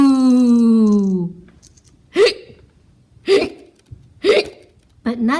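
A voice acting as a cartoon ghost lets out a long wavering moan, then hiccups four times in a steady rhythm, each hic loud, sharp and close.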